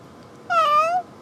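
A sick, elderly cat lets out a single close, drawn-out meow lasting about half a second against a quiet room.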